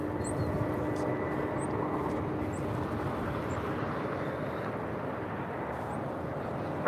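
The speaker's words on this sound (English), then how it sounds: "This is Delta 8790 coming in from JFK on a 767 300 ER." Delta Boeing 767-300ER airliner landing at LAX, heard as a steady, loud broadband jet roar with a faint whine that holds evenly throughout with no talk.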